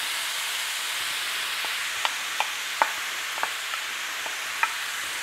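Onions frying in a pan for tortellini boscaiola, a steady close sizzling hiss dotted with small sharp pops and crackles.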